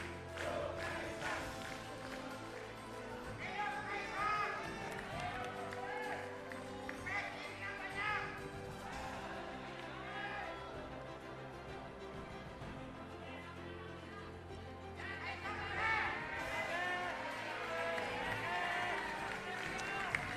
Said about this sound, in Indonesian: Tepuk tangan yang meriah untuk semua pimpinan kita yang baru, Sis dan Bro.